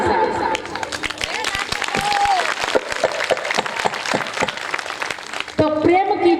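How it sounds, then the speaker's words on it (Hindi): Audience at a Shreemad Bhagavat katha in a Mahalaxmi temple in Agra claps along in steady rhythmic unison, loud and close, with a few voices calling out over the clapping near the end. "तालियों के साथ।"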